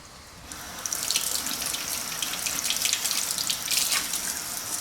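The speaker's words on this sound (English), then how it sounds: "just take them over to your sink and rinse the seeds out" Water runs steadily from a kitchen sink tap as seeds are rinsed out of halved vegetables for a chicken pasta salad, a close, continuous splashing hiss that swells slightly after the first second and carries on alone.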